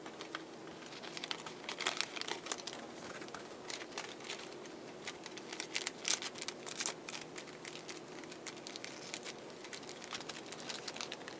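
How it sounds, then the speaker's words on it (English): Paper being folded and wrapped around a handmade bookmark, giving soft close crinkling and light tapping rustles that continue steadily and quietly. "you'll want to get your paper and kind of wrap this up like a present"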